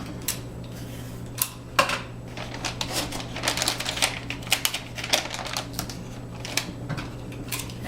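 Adhesive tape pressed and smoothed onto a log-shaped soap mold while it is lined, giving a string of irregular light clicks and crinkly taps over a steady low hum.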